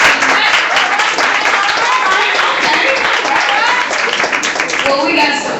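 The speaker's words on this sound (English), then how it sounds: "Let's give a round of applause real quick." Audience at a D.O.P.E poetry event at Cabana in St. Louis applauds steadily, a dense, loud wash of clapping that holds for several seconds without letting up.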